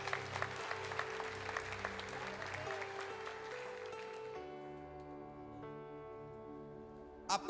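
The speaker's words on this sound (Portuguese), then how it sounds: "Quem está aplaudindo o Senhor por uma porção dessa?" A church congregation applauds the Lord with steady, dense clapping that rolls on for several seconds before thinning out, as held organ or keyboard tones carry on beneath and then linger alone.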